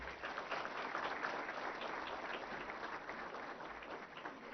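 Audience applause at a Human Rights Day 2023 ceremony at Bharat Mandapam, New Delhi, greeting the President of India: steady, dense clapping from a large crowd, sustained and even throughout without a break.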